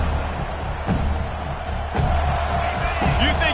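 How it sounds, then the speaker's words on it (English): A big football stadium crowd at an NCAA game roars in a steady, loud wash of cheering, with a few sharper thumps rising out of the noise. "This crowd ready to make its presence known."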